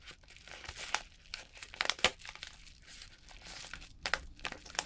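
Plastic packaging of a camera cleaning kit is cut open nearby, giving quiet, irregular crinkling and tearing with sharper crackles here and there.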